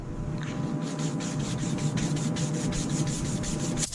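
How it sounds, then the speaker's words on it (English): Rhythmic sanding strokes rasp back and forth on the primed body of a 1960 Lincoln Continental, about three per second, steady and close, over a low hum. "Sanding again. We need absolute perfection for the paint."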